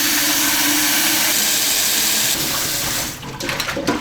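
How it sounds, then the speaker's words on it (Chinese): Chili peppers are rinsed under a running kitchen tap, a loud, steady gush of water splashing for a few seconds before it breaks into softer trickles and drips. "我们先把尖椒洗一下。"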